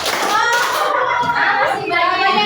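Children clap their hands in a classroom clapping game, a few sharp claps mixed with the voices of an adult and children talking over them.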